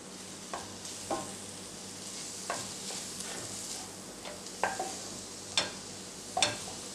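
Masala spices with turmeric being stirred in a pan, a soft steady hiss broken by sharp scraping strokes every second or so, close and fairly quiet.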